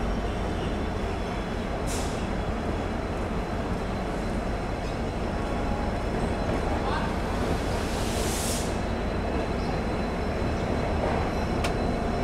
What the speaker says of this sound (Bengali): ছেড়ে দিল আমাদের ট্রেনটি new Bongaigaon junction railway station থেকে